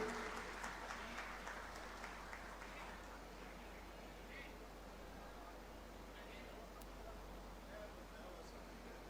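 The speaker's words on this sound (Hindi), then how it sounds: "तो काइंडली तालियां बजाने में कंजूसी ना करें" Quiet applause from an audience at a project unveiling, distant and soft over a low steady hum, with some murmured talk beneath the clapping.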